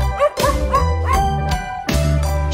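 A dog barks loudly and close by, a few bright yipping barks spaced across a couple of seconds against a children's counting song.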